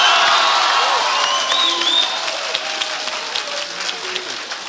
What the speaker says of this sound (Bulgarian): А сега аплодисменти и за финалистите.